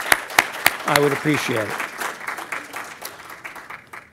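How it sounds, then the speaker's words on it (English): Panel audience clapping in a round of applause, starting with a few sharp separate claps, then a spread of applause that fades gradually while someone speaks over it. "So if I get a round of applause for them as well"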